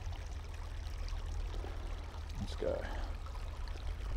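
A small trout creek near Lithgow runs in a steady, continuous rush of flowing water close by, with a brief spoken remark over it.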